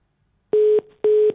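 Two identical steady telephone tones, each about a quarter second long, sound cleanly in otherwise near silence, like a call that fails to connect.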